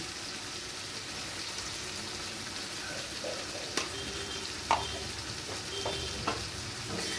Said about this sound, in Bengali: লবণটা দিয়ে ভালো করে চিকেনের সাথে মিশিয়ে নিচ্ছি